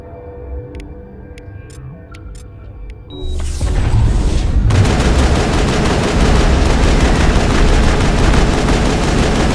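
Mass Effect combat erupts in a lab: after a few sharp isolated shots over quieter game sounds, a sudden loud blast opens into dense, continuous automatic weapon fire that rattles on without a break.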